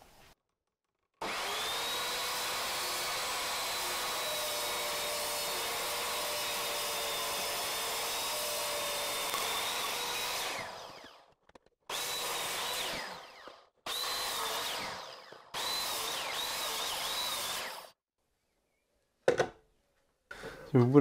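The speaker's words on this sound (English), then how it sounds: "it's not really ideal that I'm using a chop saw to do this" A chop saw cuts scrap wood in a long steady whine lasting about ten seconds, followed by several shorter cuts separated by silences, all close and loud.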